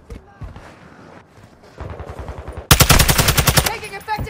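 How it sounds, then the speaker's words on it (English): Automatic rifle fire from a TAQ 56 in Modern Warfare 2 Hardpoint on Crown Raceway: scattered shots first, then a loud, rapid sustained burst of about a second, followed by more fire under game voice lines. "Taking effective fire."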